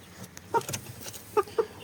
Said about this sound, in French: et ici on a un des 5 nouveaux, 6 même, qui est un coq Pékin noir